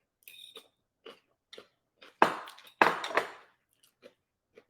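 Crisp crunching bites into a radish, a few light ones and then two loud crunches close up, with quiet chewing between.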